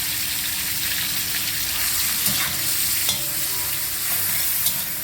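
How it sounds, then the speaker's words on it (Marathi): Onion paste sautéing over a low gas flame for dry bombil chutney, a steady soft sizzle with occasional light stirring scrapes and clinks, close by, with no voices. "आता कांदा आहे तो आपला लाल रंग होईपर्यंत परतवणार आहे."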